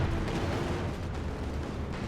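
Heavy tank cannon fire and rumbling battlefield explosions in Company of Heroes 2, where a Firefly and a Panzer IV trade shots. A loud, continuous wash of low booming fills the whole moment.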